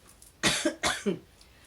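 Two harsh, close coughs in quick succession, each with a brief rasping tail, in an otherwise quiet room.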